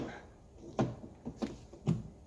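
A car door handle on an Alfa Romeo MiTo is pushed into place during refitting, giving three short plastic clicks and knocks about half a second apart, close and moderately loud.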